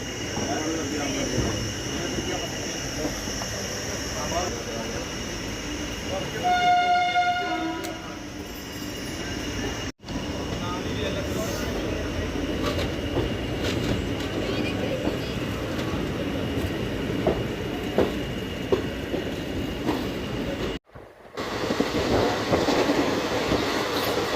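Ambala Cantt–Bathinda Express rolling along, a steady rumble and clatter of wagons on the rails with a horn-like tone partway through, loud and continuous throughout, briefly cut by two short gaps.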